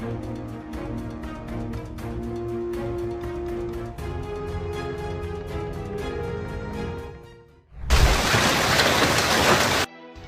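A fierce hailstorm pelts a Tesla Model Y in Bavaria, heard as a loud, dense roar of impacts lasting about two seconds, preceded by several seconds of music.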